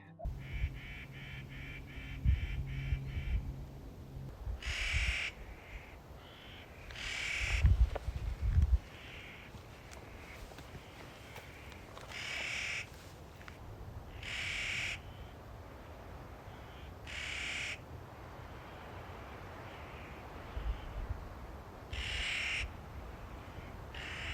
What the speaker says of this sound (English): Clark's Nutcrackers are really noisy and they make crazy sounds, so it was not hard to figure out that they were nearby.